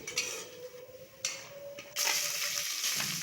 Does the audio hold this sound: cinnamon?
yes